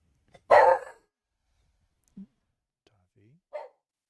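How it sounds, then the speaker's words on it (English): A dachshund gives one sharp bark, followed by a couple of soft, brief yips and faint whimpery sounds in a quiet room. "That was the dog barking at random stuff."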